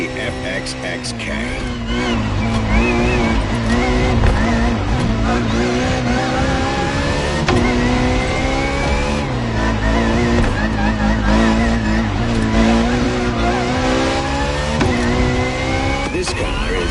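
A Ferrari FXX K, a track version of the LaFerrari supercar, drives in a racing video game with a loud, continuous engine note that climbs and drops through the gears and brief tire squeals, while a voice talks over it.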